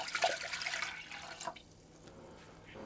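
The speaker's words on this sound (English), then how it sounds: "I'll put my water" Water pours and splashes into a saucepan for about a second and a half, then tapers off into quiet drips, close by with no talking.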